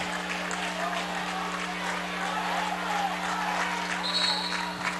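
Spectators at a Minneapolis, Kansas high school regional wrestling match keep up a soft, continuous patter of clapping in a large gym, fairly distant and blended with crowd murmur over a steady low hum.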